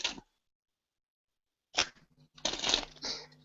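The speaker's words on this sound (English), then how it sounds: "Show me your best perfect riffle shuffle." Playing cards riffle shuffled by a magician: a short burst, a pause, then a longer run of quick fluttering snaps, close and alone.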